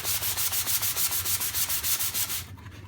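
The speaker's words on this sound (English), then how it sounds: "So I'll do a little more sanding." Rhythmic back-and-forth hand sanding of wood filler on a tenor guitar rasps steadily, close up, about a dozen even strokes before stopping.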